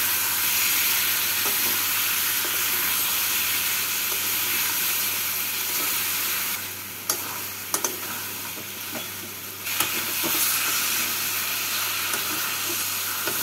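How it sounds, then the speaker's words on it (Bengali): Ridge gourd and potato stirred with spices in a pan over a medium flame: a steady loud sizzle and hiss, with a dip partway through and a few spatula scrapes and taps. "ঝিঙে আর আলুটাকে 2 মিনিট মতো নাড়াচাড়া করে নিলাম মশলার সাথে।"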